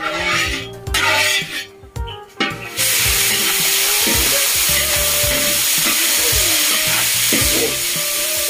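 Marinated chicken breast frying loudly in a hot pan: a continuous close sizzle that swells after a few seconds of stirring and clattering, with no voices.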